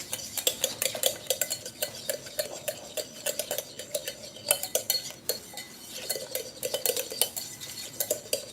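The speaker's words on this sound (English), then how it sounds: "Then you're just going to want to stir it up like that." Batter in a bowl is stirred with a metal utensil, producing close, brisk clinks and scrapes against the bowl in a quick irregular rhythm, with no talking over the stirring.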